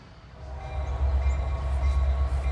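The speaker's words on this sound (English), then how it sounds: "Get another train going in front of this old train station before they take her down." A train rolls past an old railway station in Midland, Ohio, a deep, steady rumble of wheels and engine swelling slightly as it goes by, moderately near, with no voices.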